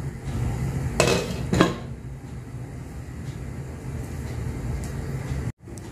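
A lid clatters onto a pot of simmering egg kuruma with potatoes, two close metallic clanks in quick succession over a low steady kitchen background.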